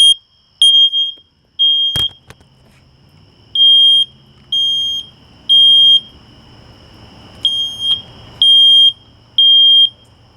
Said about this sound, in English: The other smoke detector works that I'm gonna have to borrow for the night